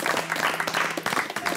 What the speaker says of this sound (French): Bonne main d'applaudissements pour notre présence ici.